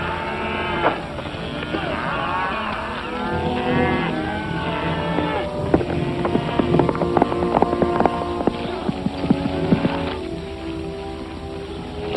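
Cattle low and moo repeatedly in a 1951 Western film scene, several drawn-out calls at middle distance layered over a busy soundtrack with faint clopping.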